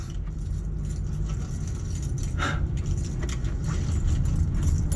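House keys jangle as they are handed over in a home, brief metallic clinks in the middle over a constant low rumbling hum, with no talk.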